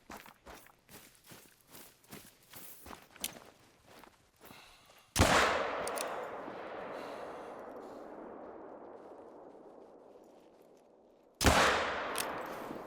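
A rifle shot at a banteng in the hunting game theHunter: Call of the Wild, with footsteps rustling through brush, then a loud sharp crack that rolls away in a long echo, followed later by a second booming shot.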